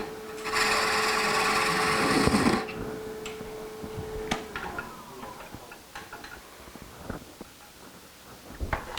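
A turning tool cuts a wood spindle on a lathe, making a loud, rough continuous scraping for about two seconds. Then comes a quieter spell of scattered ticks and light knocks.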